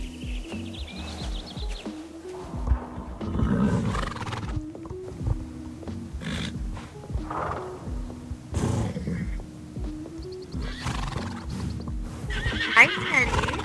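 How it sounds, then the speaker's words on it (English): Horses in a winter barn neigh and whinny several times, with hoof clip-clops and stall noise mixed in, the calls loud and fairly close. "what's been going on with Ebony, I have another horse you guys are long overdue for an update on"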